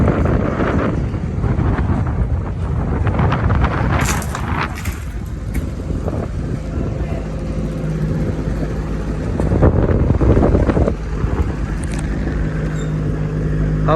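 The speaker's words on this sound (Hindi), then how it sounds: "हवा बहुत तेज़ है।" Strong wind gusts across an open area by a toll plaza cabin on the Malir Expressway, rumbling and buffeting the microphone loudly with swelling and easing roars, traffic noise faintly mixed in.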